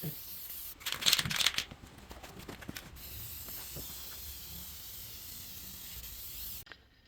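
A spray gun spraying paint hisses in short bursts, loudest near the start, then settles into a steady, softer spraying hiss that cuts off near the end.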